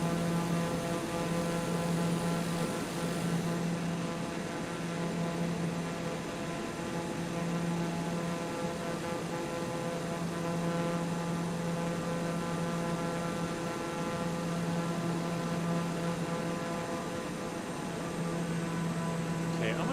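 A turbine aircraft engine in the video game Microsoft Flight Simulator 2020 drones steadily throughout, a continuous humming roar with a low tonal buzz and no breaks.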